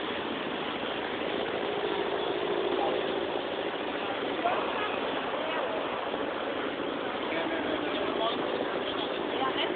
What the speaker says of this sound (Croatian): Evo, Goranca, da li vjeruješ da me šef vozi na tom brodu?